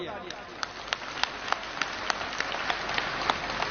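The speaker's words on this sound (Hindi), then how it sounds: "उनके लिए जोरदार तालियां।" Applause from a crowd, a steady wash of many hands clapping with a few sharper claps standing out, fairly close and continuous throughout.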